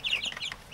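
Young chickens cluck and peep in a short burst of several bright, close calls, ending with a sharper chirp, with no talking.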